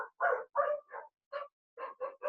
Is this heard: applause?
no